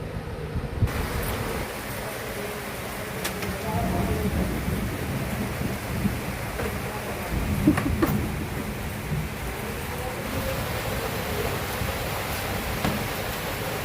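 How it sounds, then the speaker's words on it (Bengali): Heavy rain pours steadily, with thunder rolling through the downpour and a sharper crack near the middle. The rain forms a dense, continuous wash, and no voices are heard. "কি করে বাড়ি যাবো এখন জানি না, প্রচণ্ড বৃষ্টি হচ্ছে।"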